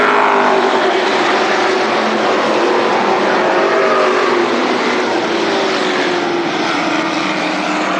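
Late model race cars race at Berlin Raceway in 1997, a loud continuous roar of several engines close by that slowly shifts in pitch as the pack circles the track.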